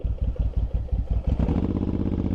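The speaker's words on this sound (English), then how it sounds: "Man, it's idling low today." A Suzuki M109R motorcycle engine idling low with a steady, lumpy putt-putt rhythm, close and loud, settling into a slightly faster, smoother idle.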